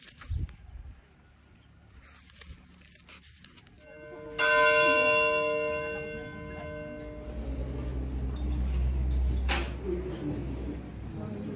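A church bell in Sagada strikes once and rings out, its tone slowly decaying over a quiet background with scattered faint noises.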